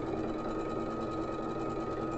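A sewing machine stitching down a patchwork quilt block, a steady fast mechanical whir running continuously at close range with no talk.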